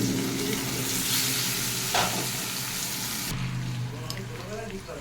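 Papaya pieces fry in a kadai of potato curry, a loud continuous sizzle with stirring that quiets abruptly midway, then softer bubbling; a voice is faintly present.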